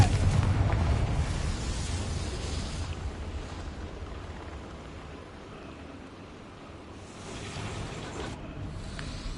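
A Confringo blasting spell detonates in Hogwarts Legacy, a loud rumbling boom at the start that rolls on as a sustained roar and dies away, then swells again near the end.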